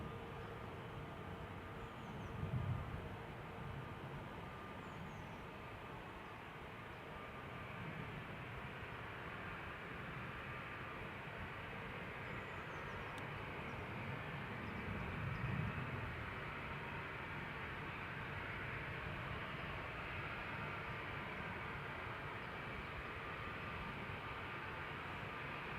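Airliners taxiing at Amsterdam Schiphol Airport, heard as a steady, broad jet engine roar that holds for the whole stretch at moderate distance, swelling slightly in places, with no talk.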